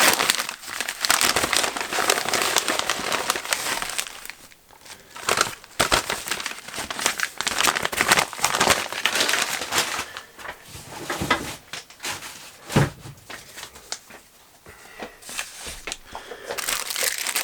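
A delivered parcel containing gearbox parts is torn and ripped open up close, with loud crinkling, crunching and tearing bursts that come in irregular waves, and no one speaks.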